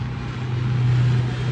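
An airplane passes overhead as heard from a balcony, giving a continuous low droning hum with a steady tonal rumble that swells slightly midway, alone without talk.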